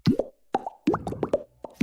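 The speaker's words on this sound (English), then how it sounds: "this is the sound of its minty bubbles." Aero peppermint chocolate bubbles are voiced in an advertisement sound effect: a quick run of wet, popping plops, about eight in under two seconds, irregularly spaced and close up with silence between them.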